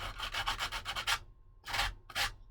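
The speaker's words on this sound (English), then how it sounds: "So I'll use a piece of 150 sandpaper or a block." A piece or block of 150-grit sandpaper knocks down high spots and light flashing. A quick run of about eight short, rhythmic rubbing strokes comes first, then after a pause two longer, separate passes, all close and clear.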